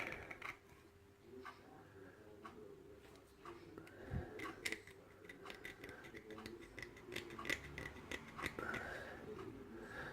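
A knife blade scratches and scrapes at a Master padlock in short, irregular, close-up strokes, quiet ticking and rasping with a few sharper clicks and a dull knock.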